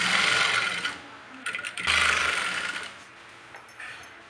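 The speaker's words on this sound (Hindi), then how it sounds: "तो यहाँ पे बकरम को बराबर रखते हुए हम सीधे से पहले एक सिलाई लगाएंगे" A sewing machine runs a straight line of stitches along the buckram-lined hem of a Patiala salwar, a steady close whirring with one short break partway through.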